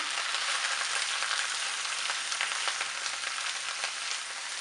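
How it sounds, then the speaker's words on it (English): Yu choy sizzles in a frying pan with a steady, bright crackling hiss that continues throughout. No one speaks. "You can hear it sizzling."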